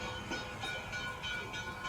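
Steady rumbling rattle of a model train running along its track, continuous and fairly close, with no voices.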